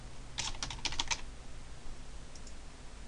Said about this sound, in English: If I type in Techsnap,